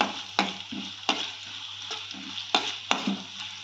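Frying in a pan for jeera rice gives a steady, close sizzle, broken by a few sharp scraping stirs at irregular moments, with no talking.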